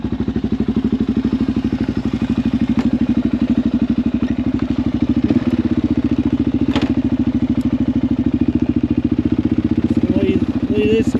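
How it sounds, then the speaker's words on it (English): A four-stroke ATV engine idles loudly up close, its rapid, even thumping pulse steady throughout, with occasional light clatter. "the sound of a good 4-stroke ATV or dirt bike"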